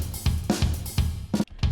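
Drum fill in a performance mixing quick hi-hat barks with accented snare hits, struck in a steady pattern of sharp broadband hits over low kick thumps, close and loud with no talking.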